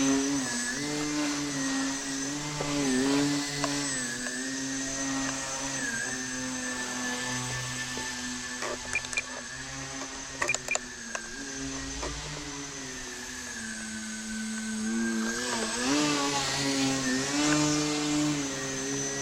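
Indoors, a small RC foam plane's electric propeller buzzes with a steady harmonic whine that rises and falls in pitch as the throttle changes, punctuated by a few brief knocks.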